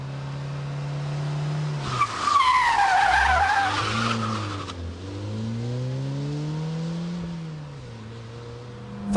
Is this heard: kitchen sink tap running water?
no